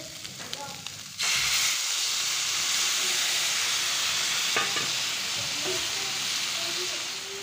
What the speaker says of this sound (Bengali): এখন আপাতত রান্না করছি এই যে সয়াবিন আর আলু